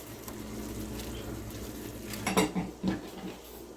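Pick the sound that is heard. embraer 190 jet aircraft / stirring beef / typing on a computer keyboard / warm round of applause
stirring beef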